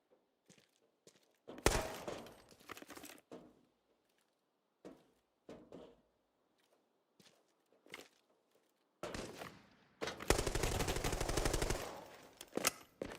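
Bursts of RPK machine gun fire in the shooter game Arena Breakout Infinite, a short volley followed by a longer sustained burst, with scattered footsteps and thuds between, loud and close.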